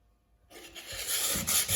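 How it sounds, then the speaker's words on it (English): Sandpaper rubs back and forth over a wooden board for string art, a dry rasping scrape that starts after a brief silence and grows louder in quick strokes. "You can feel as you sand, the wood goes nice and smooth compared to where you haven't sanded."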